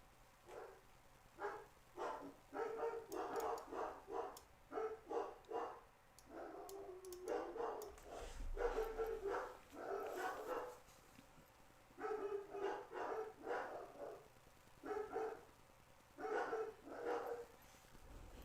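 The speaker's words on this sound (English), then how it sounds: "Damn, they're still barking." Dogs bark repeatedly in rapid bursts, several runs of barking with brief pauses between, moderately close and fairly loud.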